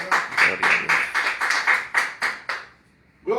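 A church congregation claps for the Lord in a steady, even rhythm of about a dozen sharp claps, then falls quiet, with one more burst of sound at the very end.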